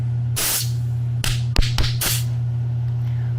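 Several short bursts of aerosol sealer sprayed under the frame of a 1985 Chevy C10 pickup, uneven hissy puffs over a constant low electrical hum, no voices.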